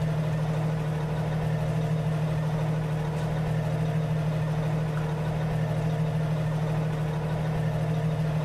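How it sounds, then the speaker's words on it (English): Truck engine idling in a video game, a Cummins 600 Signature Series, with a steady low rumble that runs on without a break at an even, fairly loud level and no talk over it. "Sounds like a C15 engine"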